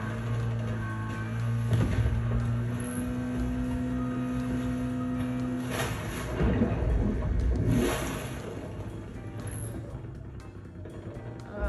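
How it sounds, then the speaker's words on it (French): A jet ski engine in the game Call of Duty Black Ops Cold War drones and revs steadily, with surging acceleration and splashing water over a constant mechanical hum, and no voices. "Allez, faire un petit tour de scooter des mers."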